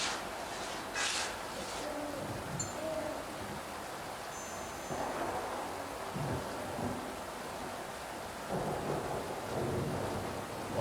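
Steady rain with rolling thunder in the 2019 PC game Inmost, a continuous wash of downpour broken by deep rumbles and a few brighter cracks, with no talking.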